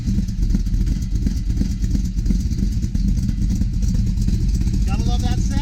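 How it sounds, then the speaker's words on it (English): A 1971 Chevy C10 pickup engine runs loud and steady after a cold start, with a rough, throbbing rumble that keeps its pitch unchanged throughout. "I'm just going to reach in the window here and fire it up."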